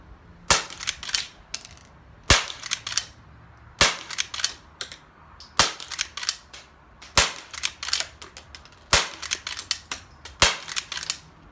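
Several sharp, quiet .22 CB Short rounds fired from a lever-action rifle with a tube magazine, about seven snappy cracks spaced a second or two apart, each trailed by a short clatter of the lever being cycled, no talking.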